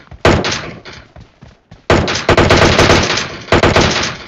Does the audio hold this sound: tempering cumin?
no